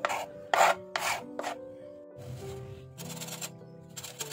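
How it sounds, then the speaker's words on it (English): Garlic cloves being peeled by hand for shrimp scampi, heard up close as short dry papery rubs and crackles in uneven bursts, with quiet pauses between them. "And now I'm going to peel off the garlic."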